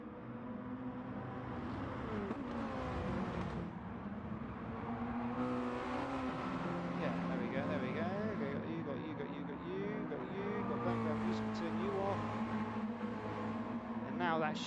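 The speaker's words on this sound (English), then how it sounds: "Should just be the cars racing there." Mazda MX-5 touring car engines in a racing video game whine and rev continuously at Interlagos, several vehicles droning together at moderate volume, with a voice talking over them.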